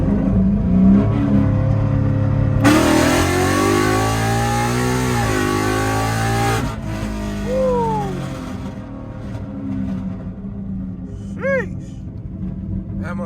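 Mustang GT with bolt-ons and a ported intake manifold and throttle body roaring through a hard test pull, a loud rising engine wail lasting several seconds before backing off, with voices talking and exclaiming around it.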